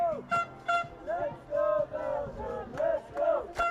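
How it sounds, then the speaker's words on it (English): Distant crowd of Belgian fans chanting and cheering in rising and falling waves at an under-18 rugby sevens match, with horn-like tones cutting through. "Now we can also hear the crowd of the Belgian fans who came here."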